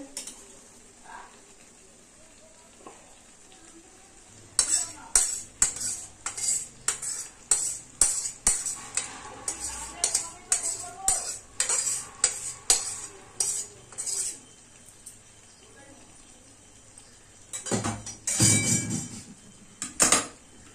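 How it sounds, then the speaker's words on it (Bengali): Mutton for mangsho kosha is stirred and fried in a pan, with a spoon scraping and clinking in a quick, irregular rhythm over a soft sizzle, pausing briefly before a final few louder knocks. "এদিকে মাংস কষানো হচ্ছে"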